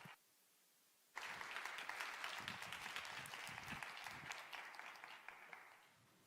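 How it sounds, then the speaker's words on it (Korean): A church youth congregation bursts into warm applause to welcome a pastor, starting abruptly after a quiet moment and holding as a dense roomful of clapping before tapering off near the end. "큰 박수로 환영해 주시기 바라겠습니다"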